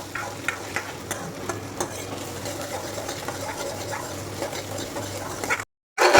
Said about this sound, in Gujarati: ડુંગળીનો કલર જ્યાં સુધી ગોલ્ડન બ્રાઉન ના થાય ને ત્યાં સુધી એને ચડવા દેવાની છે ધીમા તાપ ઉપર